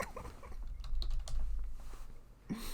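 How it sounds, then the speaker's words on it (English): Computer keyboard typing in a steady patter of soft, close keystrokes, with a few sharper clicks and no voices. "Stop typing it in the chat."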